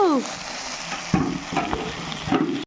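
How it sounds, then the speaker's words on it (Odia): Potato and plantain fritters frying in hot oil, a steady close sizzle with a few scraping stirs and clatters, starting after a short high-pitched sound. "ତାକୁ ଆଳୁ କଦଳୀ ଭଜା କରୁଛୁ"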